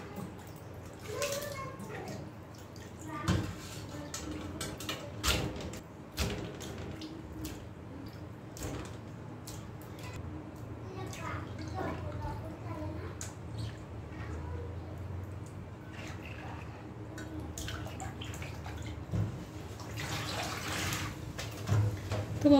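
Running tap water splashes over cut baila fish as they are washed in a home kitchen, a soft continuous trickle and spatter with occasional knocks, heard under a person talking.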